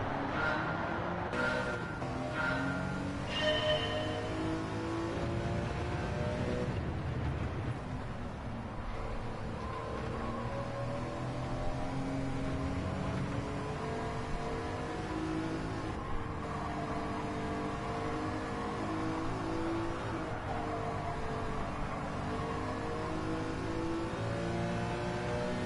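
Car engine in Gran Turismo 7 drones steadily and rises and falls in pitch as the car accelerates through the gears. A continuous, fairly loud whine runs throughout with no talk.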